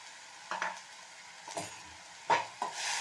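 Onion and ginger garlic paste sauté in a pan for a paneer gravy. A soft, low sizzle is broken by a few brief scraping stirs of a utensil against the metal.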